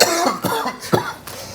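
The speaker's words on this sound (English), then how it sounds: "You want to hear my cough?" A man coughs several times in quick, rough bursts, loud and close, in a casual indoor setting.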